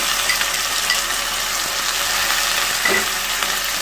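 Onion, ginger garlic paste and tomatoes frying in a pan, a steady dense sizzle with faint clinks and scrapes around three seconds, close and continuous.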